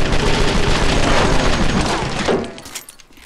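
Magnum gunshots in a multiplayer shooter video game, a dense, loud burst of booming shots that cuts off sharply near the end, followed by a fading tail.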